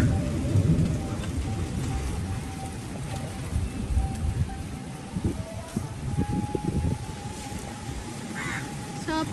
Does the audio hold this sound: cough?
no